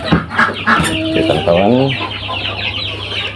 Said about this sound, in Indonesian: anak-anak ayam joper cetak mandiri saya sudah mulai menetas satu persatu